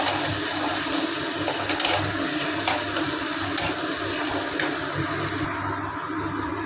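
Masala spices fry in a pan for a coconut and taro-leaf curry. A dense, continuous sizzling hiss holds steady throughout, easing slightly near the end, with no voices.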